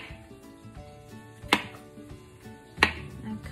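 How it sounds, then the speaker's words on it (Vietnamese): Washed mushrooms are cut with a kitchen knife on a board, giving steady close chopping taps with two sharper, louder cuts, over a faint hum of background noise. "Nấm rửa là sạch rồi cắt ra."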